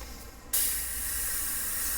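A brief quiet pause, then a sudden loud, steady hiss of an aerosol spray can held close, continuing to the end.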